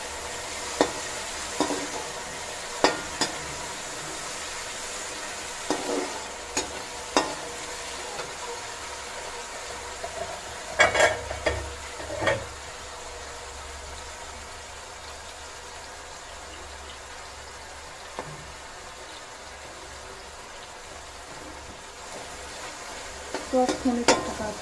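Tomatoes cooking in a pan of palak paneer masala give a low, steady sizzle, with scattered stirring scrapes and clinks now and then and a cluster of louder knocks near the middle.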